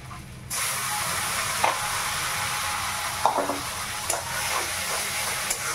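A spice paste of garlic, onion and chili frying in hot oil, a loud continuous sizzle with occasional stirring scrapes close by.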